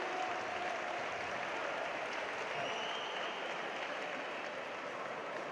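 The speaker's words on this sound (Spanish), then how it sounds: "vuelta a empezar, con aplausos también de reconocimiento por parte del público local" Home crowd applauding in an arena during a Liga ASOBAL handball match between Barça and Horneo BM. Alicante, a steady, dense wash of clapping that holds evenly throughout, distant and broad rather than close.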